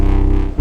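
Loud distorted guitar passed through a flanger on a guitar preset: a brief sustained chord that dips and then hits a new, heavier chord, with no voice.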